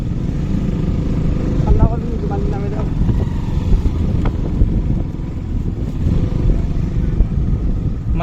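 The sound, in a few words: motorcycle riding on a rough road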